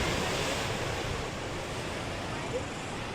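Sea waves rolling in and breaking onto rocks on the New Zealand coast, a steady broadband wash of surf with wind buffeting the microphone throughout.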